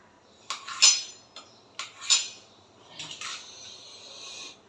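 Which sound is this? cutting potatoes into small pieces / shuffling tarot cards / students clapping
cutting potatoes into small pieces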